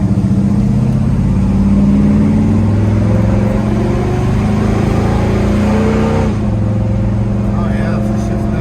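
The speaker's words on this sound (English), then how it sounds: "We'll let it come up here and we'll let it go through the gears one more time so you can see how nice the transmission is working." A 1969 Oldsmobile Cutlass accelerates through the gears, its engine note climbing steadily, dropping at a shift around six seconds and pulling again; a voice talks over the loud, close engine.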